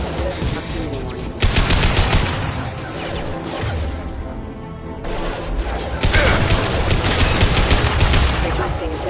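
Heavy, continuous gunfire in the video game Mass Effect 2 forms a dense barrage of shots and impacts. A short lull comes midway before the loud firing resumes, with game voice alerts mixed in.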